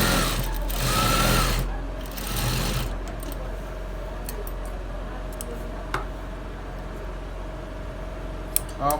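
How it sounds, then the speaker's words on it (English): Sewing machine stitching a trouser side pocket, a steady close hum with the louder stretches of stitching early on, then quieter running with occasional ticks and clicks. "Stitch this side. Make sure that the pocket"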